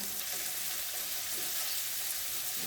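Shallots and garlic frying in oil for sambal tauco, a continuous even hiss of sizzling at moderate level throughout, with no voices over it.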